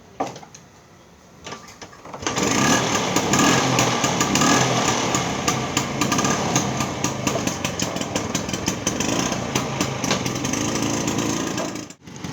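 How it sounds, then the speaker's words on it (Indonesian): A Vespa scooter engine drones steadily while riding through Purwodadi, starting quietly and then rising into a loud continuous buzz with wind rush that holds to the end. "Ikut numpak motor untuk jalan-jalan"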